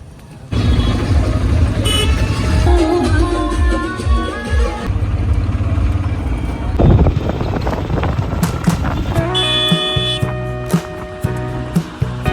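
An auto rickshaw rides through traffic near Dwarka with a steady engine drone and wind rumble, and car horns toot repeatedly toward the end.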